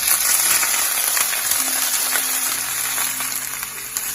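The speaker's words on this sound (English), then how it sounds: "Saute the garlic a little bit. Just have it slightly brown." Garlic sautéing in hot oil in a pan for a bok choy and mushroom dish, with a steady, bright crackling sizzle at close range, no speech, and a faint low tone entering partway through.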